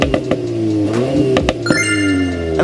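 A Volkswagen Golf R hot hatch exhaust rumbles deep and bassy, with sharp crackles and pops breaking through as the engine revs and settles.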